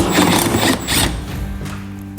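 Close, loud mechanical clicking from a socket ratchet turning 8mm bolts on the inside fender near the taillight of a 2023 Ford F-250 Super Duty, fading to a quieter tail.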